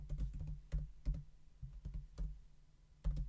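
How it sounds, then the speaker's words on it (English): Keystrokes on a computer keyboard while entering text into a design program, an uneven run of close, soft clicks with short pauses between bursts. "So I'm just going to type in here, plant details in all caps."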